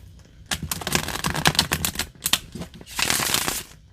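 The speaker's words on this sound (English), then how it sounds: "These cards are so easy for me to shuffle." Tarot cards shuffled up close in an ASMR setting: rapid crisp riffling bursts with clacking flicks, pausing briefly before a longer, dense cascade of shuffling near the end.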